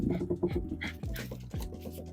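Dogs scuffle over a bouncy ball, with close, busy bursts of growls, whimpers and panting in an uneven, agitated rhythm and no voices.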